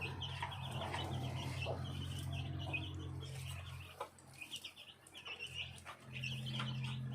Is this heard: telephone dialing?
no